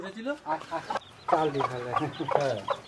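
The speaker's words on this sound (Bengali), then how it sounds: "দেখো কটা মুরগি বাচ্চা হয়ে গেছে" Hens and their newly hatched chicks in a village yard, a run of close, fairly loud clucks and soft chirps in quick, uneven bursts, with a short pause partway through.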